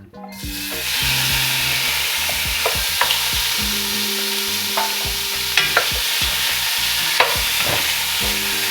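Pork frying in cooking oil in a pan, a continuous loud sizzle with repeated scraping and stirring knocks from a utensil, starting abruptly and carrying on steadily with no talk.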